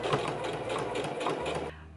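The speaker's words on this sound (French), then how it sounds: "j'ai plus qu'à faire la surpiqûre tout autour pour maintenir" A sewing machine topstitches around a trouser waistband in close, rapid pulsing chatter for most of the stretch, then stops abruptly before a brief final noise.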